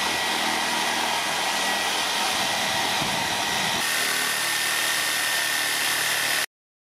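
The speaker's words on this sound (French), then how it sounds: "Avec la scie sabre, je vais scier du bois." Reciprocating saw cutting wood while powered by a BigBlue CellPowa 1000W LiFePO4 solar power station; a loud, continuous buzzing motor whine runs for several seconds, changes pitch partway through, then stops abruptly.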